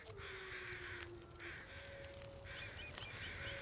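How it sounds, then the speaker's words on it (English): Carrion crows in the video game The Long Dark give several harsh caws over a steady wind-like ambient bed, the calls spaced out and moderately near, with no talking. "As soon as I saw the second flight of carrion crows"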